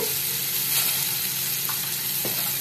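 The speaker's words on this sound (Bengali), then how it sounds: "এটাকেও আমি একটু ফ্রাই করে নিচ্ছি" Two potatoes sizzle in hot oil in a kadai, seasoned with salt and turmeric, giving a steady close hiss with a couple of faint scrapes and no talking.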